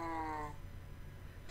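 A single short cat meow from Minecraft, fairly close and clear at the start, then quiet game ambience.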